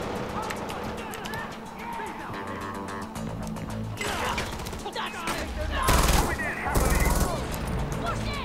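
Repeated gunfire in the Far Cry 4 video game, with bursts and loud volleys coming thick and fast over a busy game soundscape, the heaviest blasts landing near the end; someone talks over parts of it.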